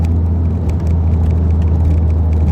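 A Mk4 VW GTI with a 1.8T turbo engine and K04 turbo, heard from inside during street driving: loud, steady low engine drone and rumble with a whirring tone, continuous and fairly even throughout, no talking.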